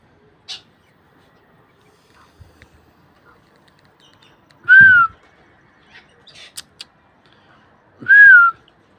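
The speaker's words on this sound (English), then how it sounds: "Pesky pigeons." Birds calling in a front yard with crows and pigeons about, two clear whistling calls standing out alone against a quiet background, with a few faint chirps between them.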